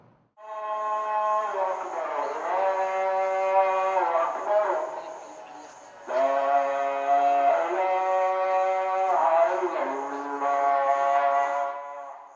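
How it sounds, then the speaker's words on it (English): A long, melodic sung Islamic call to prayer in Mogadishu, Somalia, with a wavering voice rising and falling in two extended phrases, echoing clearly over a quiet background. "The call to prayer."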